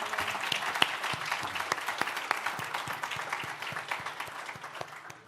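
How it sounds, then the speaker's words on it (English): An event audience gives a round of applause for two speakers, moderately quiet clapping with individual sharp claps standing out in an uneven patter that slowly thins toward the end. "let's give another round of applause for both Corey and Allison"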